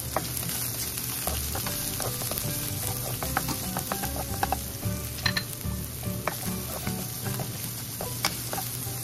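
Garlic and onion sautéing in a pan with a strong constant sizzle, crackling pops and frequent stirring scrapes, heard up close with no speech.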